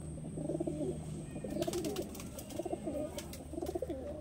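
A Madrasi pigeon coos in soft repeated phrases, about four rounded calls in a steady rhythm, close and fairly quiet, with light clicks and rustling in the background.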